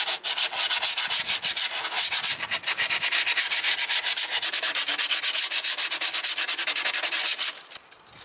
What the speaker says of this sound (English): Now we can maybe clean the brake pads a little bit. You only need a little bit sandpaper for that.